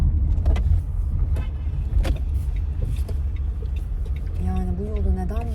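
Inside a car moving through city traffic, a low, steady engine and road rumble runs throughout, with occasional knocks and a rising whine near the end.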